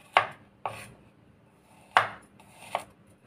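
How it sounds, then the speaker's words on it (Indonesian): A knife chops garlic cloves on a board while a chicken batagor with peanut sauce is being prepared: four sharp, close chops, two quick ones, then a pause, then two more, with quiet in between. "Bawang putihnya juga saya potong-potong dulu."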